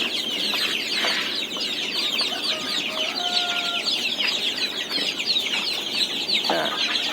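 A farm brood of native, black and game chickens, nearly thirty of them, clucks and chatters continuously. The soft overlapping calls and occasional sharper cries carry over a constant background hum.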